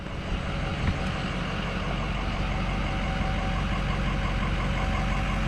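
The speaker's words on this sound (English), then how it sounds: "we're just sitting here idling" A Ford 6.0 Power Stroke diesel truck idles steadily and close, a constant low clatter and rumble with no voices over it.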